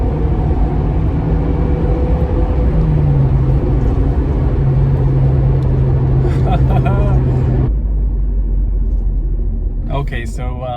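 Acura RSX pulling hard under acceleration, a steady loud engine drone with rising tone for most of the stretch, then cutting off into lower road rumble; occasional voices over it.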